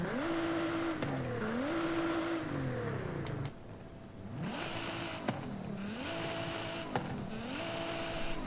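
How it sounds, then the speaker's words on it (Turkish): A modified Nissan 350Z's engine in Forza Horizon 5 revs up and down repeatedly, rising whines falling at each shift, with a short dip to quieter idle midway, steady and loud throughout. "Bir egzoz dinleyeceğiz."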